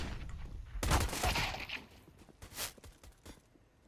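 Glock pistol shots in Counter-Strike: a sharp burst of rapid gunfire, then a second, shorter volley a moment later, loud and near with no talking.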